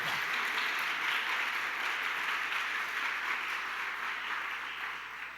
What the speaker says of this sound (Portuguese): Dá uma forte salva de palmas para ele.